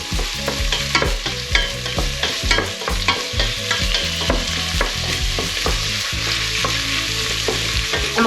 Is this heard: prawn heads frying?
yes